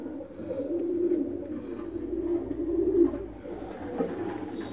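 A pair of Madrasi pigeons of the Pulsar breed and Arshad line coos in low, soft, rolling calls that repeat over several seconds, close by and unaccompanied by speech.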